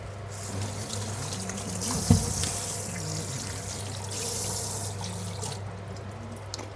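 Pumpkin pieces are rinsed under a running kitchen tap, a steady stream of water splashing into a sink, with a brief louder splash partway through.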